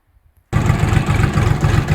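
A Kentavr 244SX mini tractor engine being broken in catches abruptly after near silence and settles into a loud, steady, close diesel clatter that continues to the end.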